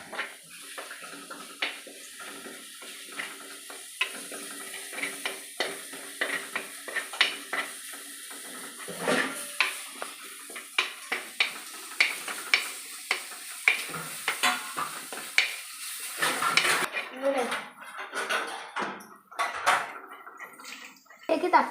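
Fish curry fries in a pan while a utensil stirs and scrapes it, giving steady sizzling broken by repeated clinks and scrapes against the pan, with voices talking now and then over the cooking.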